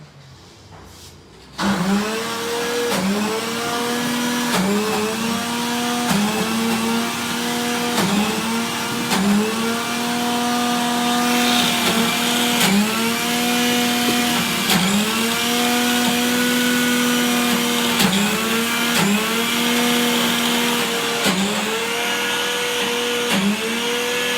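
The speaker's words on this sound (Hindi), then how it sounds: "एक बार मैं और हल्का सा इसे ब्लेंड करूँगा" Hummus whirring in a blender: a steady, loud high-pitched motor drone that starts after a moment of quiet and runs for over twenty seconds, swelling and dipping in regular pulses about once a second, with no talking.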